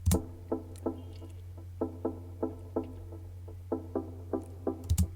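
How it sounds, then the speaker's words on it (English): Sparse, bright synth stabs from a Vengeance synth sample run through an EQ hit in a syncopated pattern over a steady low hum, each short and clipped. "For the first 2 stab sounds, I'm using a Vengeance synth sample followed by an EQ."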